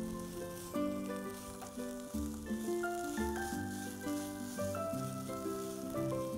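Garam masala stirred into an onion and tomato masala frying in a pan, a constant sizzle running beneath louder melodic background music throughout.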